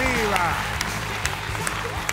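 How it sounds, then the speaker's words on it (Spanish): Applause and cheering from the studio audience of a televised singing competition's blind auditions, loud and close, with sharp individual claps standing out over an excited presenter's voice and crowd noise. "¡otro aplauso, loco!"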